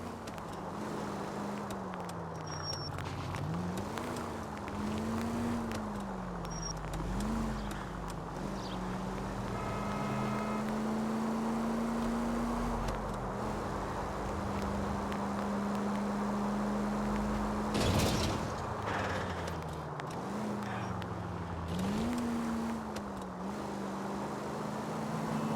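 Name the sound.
car driving in L.A. Noire video game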